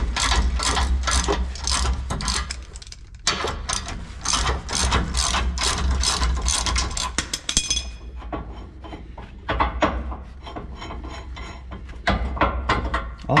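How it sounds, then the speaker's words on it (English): A hand ratchet loosening a clamp on a Duramax diesel truck clicks in fast, close bursts of metallic pawl ticking, pausing briefly between strokes with no talking. "All right, so I just did this with the regular ratchet"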